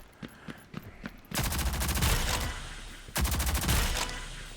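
Video game shooter gunfire fired from the hip: a few sharp single shots, then two long, loud bursts of rapid automatic fire separated by a brief pause, close and dominant with no talking.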